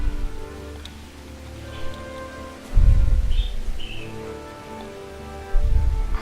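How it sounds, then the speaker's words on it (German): Rain falls steadily in Kingdom Come: Deliverance, a soft continuous patter with two heavier low rumbling swells and faint bird chirps in the background. "Ja, es regnet."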